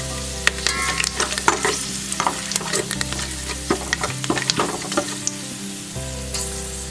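Curry leaves, rampe and cinnamon bark fry in oil for a vegetable biryani, a steady sizzle under repeated spoon scrapes and knocks against the pot, close and distinct, with a constant low hum and no voices.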